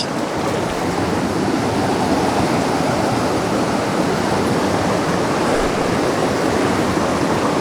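A year-round creek on rural land rushes steadily, a loud, dense broadband flow with no breaks, heard close up and alone without any talking.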